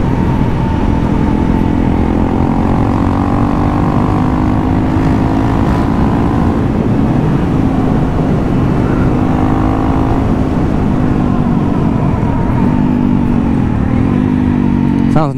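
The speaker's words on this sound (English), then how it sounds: "Sounds nice on the downshifts as well." A Honda CRF 300L motorcycle engine drones loudly and steadily as it runs up and down through the gears, heard close from the rider's position with wind noise throughout.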